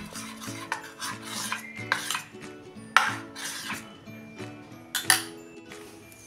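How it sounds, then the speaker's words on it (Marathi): Chili fritter batter being stirred with a spoonful of hot oil in a bowl, giving steady scraping and mixing strokes with occasional utensil clinks against the bowl, close and moderately loud over soft background music. "हे आता एकसारखं मिसळून घेऊया"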